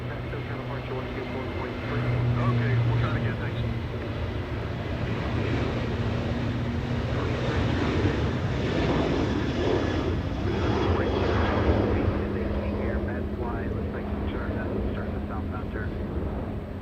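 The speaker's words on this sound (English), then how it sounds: "Southwest flying to Vegas." A Southwest Airlines jet departs Los Angeles International Airport for Las Vegas, its steady engine roar holding loud and broad throughout, with a low drone underneath.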